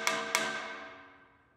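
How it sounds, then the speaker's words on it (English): A hammer strikes a properly tightened bolt on a new Hitachi train car twice, each tap a clear metallic ring that sustains and fades slowly, quiet and close with no talking. "this is the sound of a properly tightened bolt"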